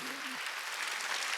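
A church congregation claps during a Wednesday worship service, a dense, even burst of applause that follows the brief end of a voice.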